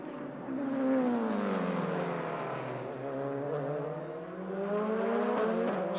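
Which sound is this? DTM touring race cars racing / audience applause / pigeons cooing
DTM touring race cars racing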